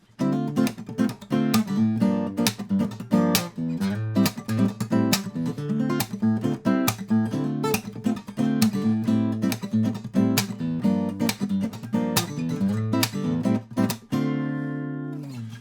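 A fast groove played with the fingers on an instrument, with steady rapid plucked notes running continuously and loud for about fifteen seconds before ringing out.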